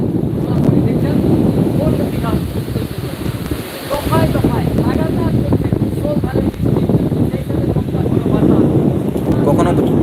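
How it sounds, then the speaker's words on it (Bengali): Gusty wind blasts continuously against the mic on Digha beach in rain, with a voice speaking throughout under the heavy roar. "কখনো চলছে জোরদার বাতাস প্লাস হচ্ছে বৃষ্টি"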